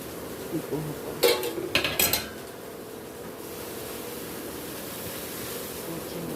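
Dry poha tips into a pan with a brief clatter of flakes and a scrape of metal on the pan, followed by quiet stirring and low kitchen background noise.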